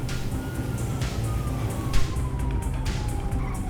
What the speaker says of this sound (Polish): radiowóz jakiś jedzie